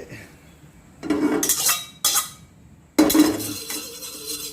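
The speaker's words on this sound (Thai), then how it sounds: "ตั้งกระทะครับ" A metal wok clanks and scrapes on a stove in a few short bursts close by, with quiet pauses between the knocks.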